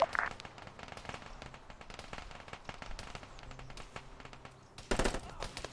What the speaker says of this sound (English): Ooh, I just got sniped in the face.